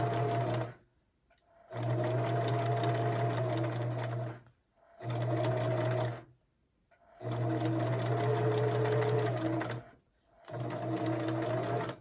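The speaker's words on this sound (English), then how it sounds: "So now I'm going to sew this." A sewing machine stitches a quilt in three long loud bursts, each a fast even whirring run of stitches, with short silent pauses between them; close by, no talking.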